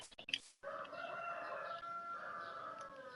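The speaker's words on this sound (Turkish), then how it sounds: "Mükemmel tavuklar severiz." Minecraft chickens cluck and crow in a steady run, a clear rooster-like call held over a busy background after a brief burst of noise at the start.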